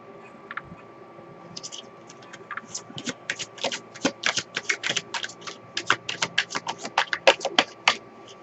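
Tarot cards being shuffled by hand at close range: quiet at first, then a long run of crisp, rapid riffling snaps and slaps that build in loudness, with no talking.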